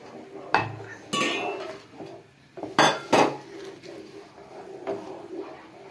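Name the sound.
stirring beetroot lehyam in pan with spoon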